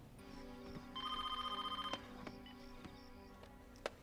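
An old-style telephone bell rings in a quick trilling burst, clear and fairly close, with a few sharp clicks and knocks around it and no talk over it.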